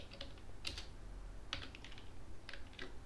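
Keys clack on a computer keyboard as a command is typed into a terminal on Linux Mint, quiet irregular taps in small clusters with soft background hiss.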